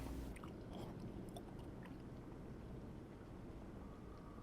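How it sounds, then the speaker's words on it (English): Potato chips being eaten in the video game D4, with soft, faint crunching and chewing over a low, steady background hiss. "I guess I should eat the potato chips."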